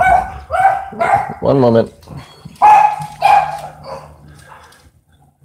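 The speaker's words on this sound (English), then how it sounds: "dog's barking" Two pet dogs, a miniature Australian Shepherd and a Scottish Terrier, bark repeatedly indoors in loud, close bursts with a rapid yipping flurry, then quiet down as someone says a few words.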